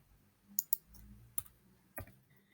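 A computer mouse clicks a few times while print preview is switched on in a text document, giving sharp, close, quiet clicks in a small cluster followed by one more click after a short pause.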